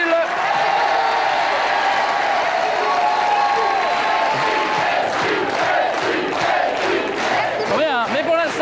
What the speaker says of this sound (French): je vous demande d'applaudir Cécile